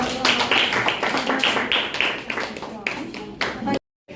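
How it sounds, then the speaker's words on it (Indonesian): Classroom students applaud a presenting group with a series of sharp, rhythmic claps close by, fairly loud, ending abruptly in a short moment of silence. "Tepuk tangan lagi."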